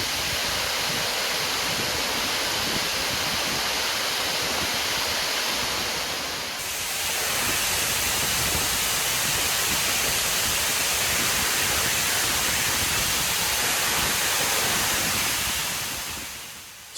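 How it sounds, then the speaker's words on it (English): Water cascades over the top of the Derwent Dam wall and down toward the runoff channel below the eastern tower, a dense, steady roar that stays loud and close throughout, with a brief shift in texture partway through. "Another amazing angle of the cascading water coming over the top of the dam wall."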